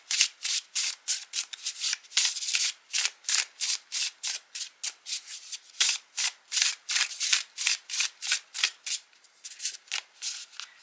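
Tarot cards are shuffled close up in a quick run of crisp, rhythmic riffling bursts, each shuffle separated by short pauses, with no talking.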